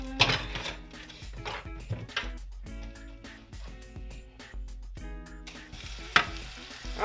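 Frozen cheesesteak meat sizzling in a skillet on medium-high heat, with a moderate crackle and scattered clinks and scrapes of utensils against the pan, steady at close range with a couple of sharper knocks.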